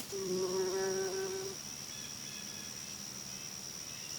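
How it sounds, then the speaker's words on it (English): Ground-nesting bumblebees buzz close by for about a second and a half, a steady droning hum, then fade into faint background hiss with softer insect sounds. "I looked them up online, and they're actually called bumblebees."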